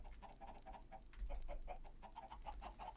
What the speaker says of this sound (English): I think I completely sealed off the chickens in here.